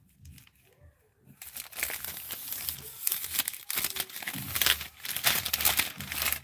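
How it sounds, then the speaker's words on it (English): Cellophane crinkles and crackles close by, starting softly and building into repeated loud rustling bursts as it is handled. "We're gonna use this cellophane."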